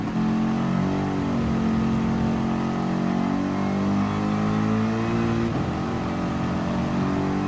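Engine of a Mercedes race car in Gran Turismo Sport, droning loudly and continuously as it gradually accelerates, with pitch rising and dropping through gear changes and no talking.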